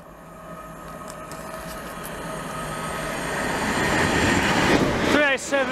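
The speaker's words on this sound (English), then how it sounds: "train now approaching is a double pair of 387s" Two coupled British Rail Class 387 electric trains approach a station platform, a rising rumble and whine that builds steadily louder and closer, ending with a brief squeal of wheels or brakes.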